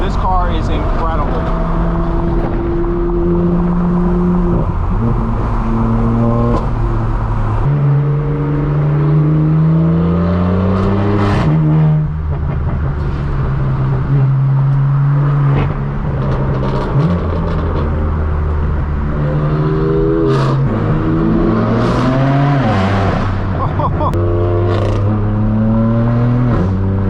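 A straight-piped BMW M4 F82 at a Los Angeles car meet, loud exhaust rising and falling through revs and gear changes, with people talking throughout over the engine noise.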